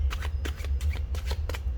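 Tarot cards are shuffled during a reading, a rapid series of close, crisp riffling bursts in quick succession with no talk over them.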